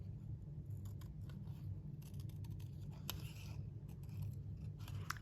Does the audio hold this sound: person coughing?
no